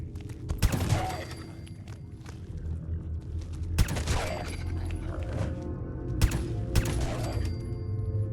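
Gunfire in the video game Fallout 4 comes as several loud, sharp shots and bursts spread across a few seconds, with game ambience and mechanical noises between them.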